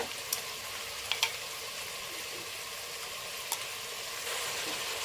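Ginger garlic paste fries in a pan for chicken biryani, a steady bright sizzle with a few sharp spoon clicks against the pan, close and continuous, and no voices over it.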